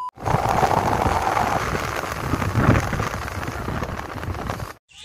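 Steady heavy rain pouring down outdoors in a hilly area on the way to Langting, a dense continuous wash with a brief swell midway, then stopping abruptly at the end.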